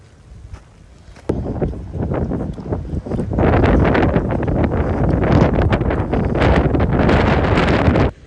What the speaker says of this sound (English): It is super windy out today.